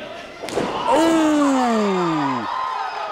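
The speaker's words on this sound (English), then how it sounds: "Got him with the Irish mouth grenade." A wrestling slam, the Irish mouth grenade, lands in a televised match with one sharp impact thud over a loud, roaring crowd and a commentator's voice.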